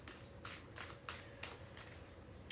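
Tarot cards are shuffled back into the deck at a Gemini and Cancer reading, giving a series of crisp riffling bursts roughly every half second, close and clear over faint room hiss, with no talking.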